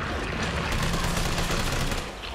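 Handgun fire in the Resident Evil 3 Remake video game, a dense, sustained volley of sharp shots blending into a loud continuous crackle, close and unbroken with no talk.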